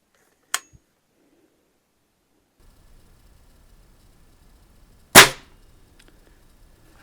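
Stoeger S3000 pistols fired at targets outdoors: one sharp crack early, a long quiet stretch with faint background rumble, then a second louder close shot with a quick ringing decay; no talking.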